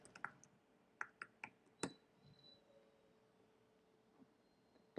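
Several sharp, separate key clicks on a computer keyboard as a password is typed, quiet and unhurried with short gaps between presses, then silence and a final louder tap.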